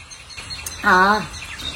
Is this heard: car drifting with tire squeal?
no